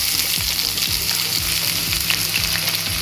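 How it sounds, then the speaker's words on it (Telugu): Onions sautéing in hot oil for amritsari chole masala, a steady loud sizzle with brief crackles and occasional soft stirring scrapes throughout, no voices. "ఉల్లిపాయలు సాటే చేద్దాము."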